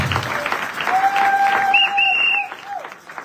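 A church congregation at a deliverance seminar claps together in a steady, sustained burst of applause that fills the hall for about three seconds, with a sustained tone ringing over it before it tapers off.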